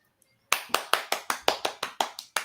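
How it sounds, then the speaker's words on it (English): Hands clapping in a group class game, about ten sharp claps in a steady, even rhythm, loud and close with no talking. "So y'all should be continuing to clap your hands."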